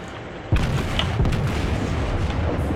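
Heavy naval guns firing from an enemy warship in World of Warships, a sharp booming salvo followed by a second thump and rumbling aftermath, loud and close over a constant engine-like drone.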